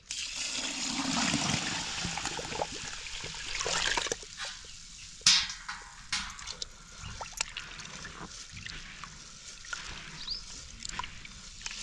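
Water splashes and rushes as it is poured off soaking wheat, loud at first, then trailing into trickles and small splashes.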